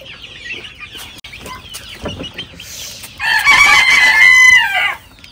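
Chickens cluck and chatter close by on a poultry farm, then a rooster crows loudly near the end in one long, rising call.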